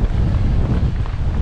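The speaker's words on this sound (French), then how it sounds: "il fait beau, mais il y a vraiment du zef quoi" Strong wind buffets the microphone continuously, a loud, low rumbling roar during a mountain bike ride on open, sunny terrain, with no other sounds clearly standing out.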